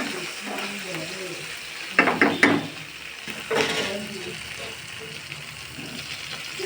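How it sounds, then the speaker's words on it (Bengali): Besan bora curry with turmeric and tomato cooking in a pan, a soft steady sizzle with two brief louder bursts of stirring or scraping, fairly close and without talk. "এবার আমি ভালো করে কষিয়ে নেব এই তরকারিটা"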